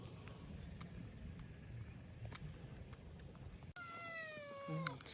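A cat meows several times in quick succession, close and fairly clear, after a stretch of faint outdoor background noise while walking near stairs in Yogyakarta.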